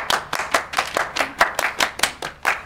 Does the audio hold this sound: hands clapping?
yes